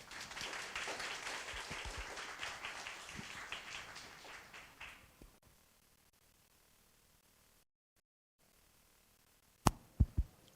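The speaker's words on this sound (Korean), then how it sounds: "김솔범 선생님을 뜨거운 박수로 맞아주시기 바랍니다" Audience at a lecture on Silla-era archaeology applauding to welcome the speaker, several seconds of clapping that dies away, followed by quiet and a few thumps.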